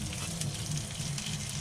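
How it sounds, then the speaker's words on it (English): Bacon sizzles in a pan on a camp stove in a van, a dense, steady crackle of frying fat heard up close without talk. "we're cooking up a little bacon and eggs"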